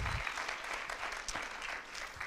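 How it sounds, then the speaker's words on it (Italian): A short burst of audience applause at an Italian climate-themed public talk, fairly faint and even, clapping alone without voices. "Un grande applauso"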